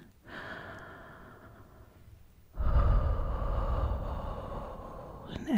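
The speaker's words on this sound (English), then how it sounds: "breathing in," Slow breathing in a soft-spoken morning relaxation session: a quiet inhale followed by a louder, longer exhale, close to the microphone with no talking.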